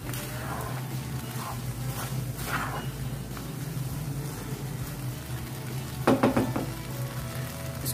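Vegetable vermicelli fries in a pan over a medium flame, a close, steady sizzle with soft stirring scrapes and a brief clatter near the end.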